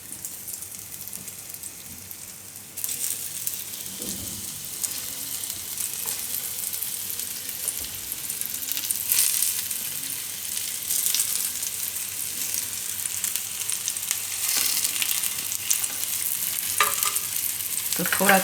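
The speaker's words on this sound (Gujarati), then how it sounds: "આમાં આપણે આ તુરિયા મૂકી દેવું." Stuffed ridge gourds fry in hot oil for a Gujarati vegetable dish, a steady close sizzle and crackle that grows louder after the gourds go into the pan, with light stirring and no talking.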